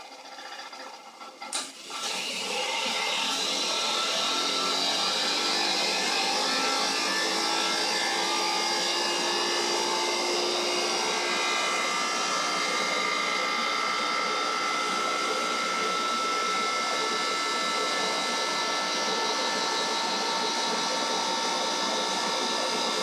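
An electric motor runs under load on an open source AC controller at about 3,600 RPM, a loud, sustained tonal whine that kicks in after a brief quiet start and holds steady.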